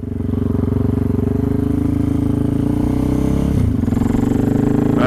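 Adventure motorcycle ridden solo with bent handlebars after a crash, its engine droning loud and steady throughout with a brief dip in tone partway.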